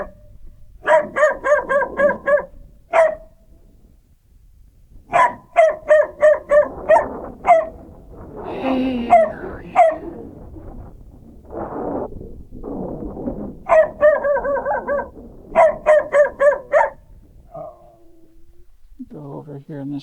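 A dog barks in rapid, loud bursts of yips at a Big Bend National Park hiking spot, with brief whimpering between volleys and someone talking over it.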